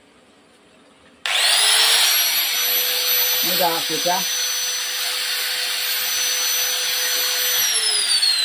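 An electric drill starts abruptly and runs at a steady loud whine on a 900W or 1300W household supply, with a brief voice speaking over it partway through.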